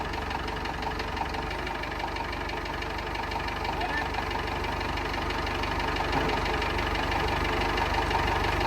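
A tractor engine idles with a new bush hog mounted on it, a steady low knocking rumble that continues evenly throughout.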